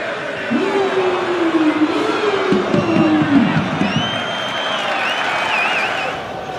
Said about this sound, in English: Crowd applauding the drop of the shoulder.